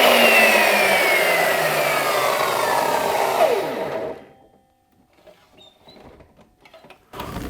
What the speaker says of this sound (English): I was met with a few challenges while using the miter saw